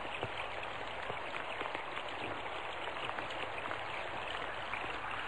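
Steady pre-monsoon rain falls in a constant, dense patter with scattered louder drops, close and even throughout, with no voices.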